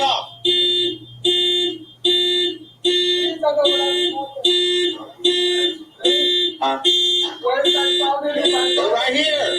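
A loud electronic alarm blares in regular pulsing bursts, about once a second, at a police shooting scene, with shouting voices overlapping it.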